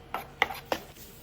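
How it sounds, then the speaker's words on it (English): Three quick scraping clinks of a metal spoon against a bowl, evenly spaced and fairly close, with quiet background between them. "You can probably hear the spoon scratching the bowl."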